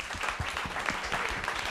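An audience applauds Alain, the husband of Isabelle, at a dinner event in Chambéry, with steady dense clapping filling the room throughout.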